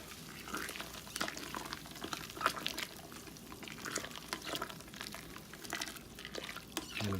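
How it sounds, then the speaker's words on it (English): Chicken stock with celery, parsley, onions, thyme and garlic is stirred in a pot, with repeated sloshing, scraping strokes and soft bubbling, moderately close and without talk. "Now we can stir it up."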